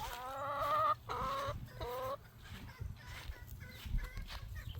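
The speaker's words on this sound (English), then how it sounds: "Here are the chickens." Several chickens cluck close by in a yard, a few louder drawn-out calls followed by quieter chatter.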